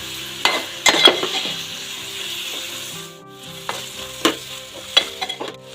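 Shelled field beans being sautéed in a pan for a traditional Konkan dish: steady frying sizzle with repeated scraping stirs and occasional utensil knocks against the pan, close and moderately loud, no talking.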